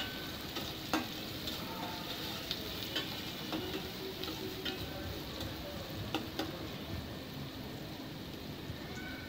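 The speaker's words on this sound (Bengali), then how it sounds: "এখন আমি হাঁড়িতে কিছু পরিমাণ তেল দিয়েছি, এখন পেঁয়াজ কুচি দিয়ে দিলাম।" Chopped onions fry in oil in a cooking pot, giving a soft, continuous sizzle with faint scattered ticks and pops, quiet and steady across the whole stretch.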